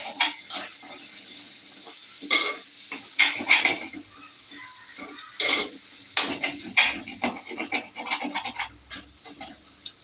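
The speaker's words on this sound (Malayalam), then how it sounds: "അപ്പൊ ഇനി ഇളക്കി കൊടുക്കുക" Crab curry stirred in a clay pot, with irregular clinks and scrapes of a utensil against the pot and short rustling strokes, close and fairly loud against a quiet background.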